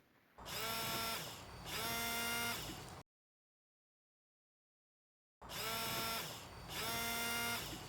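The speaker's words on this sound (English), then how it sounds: "have somebody turn on the washer pump intermittently while you're inspecting the hoses for cuts, kinks, and leaks" A car's electric windshield washer pump whirs in two steady buzzing bursts, pauses in silence, then runs again in two more bursts, loud and close with no talk.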